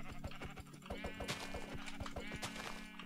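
Sheep bleating in the Minecraft video game, several short wavering bleats repeating in quick succession over a steady low hum, close and clear with no talking.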